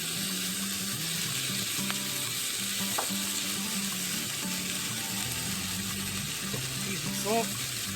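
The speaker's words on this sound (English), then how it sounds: "Put some butter in there. You can hear it sizzling already." A big T-bone steak fries in butter in a pan at a campsite, giving a steady close sizzle and crackle throughout with faint clinks of utensils.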